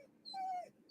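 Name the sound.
dog whimpering in the background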